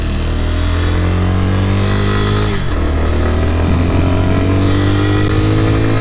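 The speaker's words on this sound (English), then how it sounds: "So we're just kind of cruising around, getting a feel for the bike." Motorcycle engine cruising on the bike, a steady loud drone with strong low harmonics that dip briefly in pitch near the middle before settling back to a smooth, even hum throughout.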